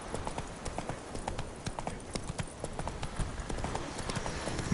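In the game The Witcher 3, the horse Roach walks with a steady rhythmic clip-clop of hooves, close and moderately loud throughout, with no speech over it.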